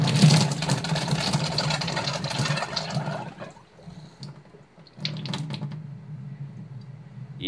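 An iSpring six-stage reverse osmosis water filter system runs with a steady rush of flowing water, close by. The rush stops briefly in the middle, then resumes more faintly with a few small clicks and taps.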